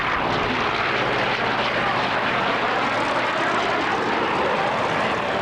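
A military warbird roars past at an air show, a loud steady engine drone with broad rumble and hiss throughout, and a commentator talks over it.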